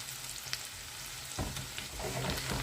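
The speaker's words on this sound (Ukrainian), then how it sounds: "Гарненько розігріваємо щоб так смажилося, а потім віддвинемо, щоб цибулька доходила." Onion frying in a pan while a semolina dish with cottage cheese and pork cracklings is made, a steady close sizzle that crackles louder and busier in the second half, with no voices.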